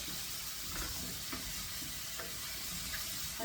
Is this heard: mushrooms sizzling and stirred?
yes